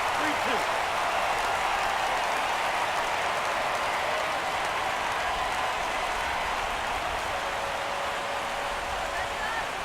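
Stadium crowd in the baseball video game MLB 17 The Show cheers steadily as it rises for a full count, a dense continuous roar throughout under a commentator's voice.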